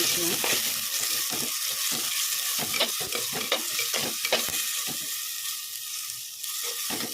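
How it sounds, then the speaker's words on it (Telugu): Tomato, salt and cumin frying in oil in a pan while being stirred for munnakaya tomato pulusu: a soft continuous sizzle broken by irregular clinks and scrapes of the spoon, close, with no speech. "టమాటా వేస్తున్నాం ఇప్పుడు ఇవన్నీ వేసేసిన కదా ఇప్పుడు ఇవన్నీ కలుపుకోవాలి"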